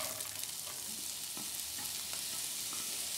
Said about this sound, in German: Ich habe jetzt hier eine ganze Zwiebel klein geschnitten und die kommt jetzt in die Pfanne.